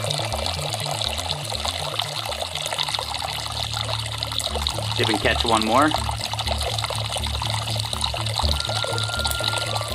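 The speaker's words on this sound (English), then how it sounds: "You'll notice that the stream of water is nice and tight as it enters our induction can" A tight stream of water pours steadily into an induction can, a continuous splashing trickle that rises briefly midway, with someone talking over it throughout.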